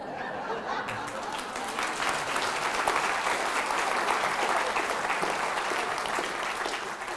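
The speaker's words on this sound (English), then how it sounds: "Y'all from one of those churches that claps for everything." Church congregation breaking into long, dense applause, steady and full throughout, with a few chuckles mixed into the clapping.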